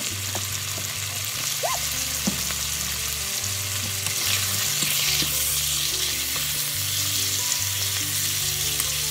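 Chicken pieces seasoned with salt and pepper brown in a pan over high heat, giving a steady, even sizzle under background music.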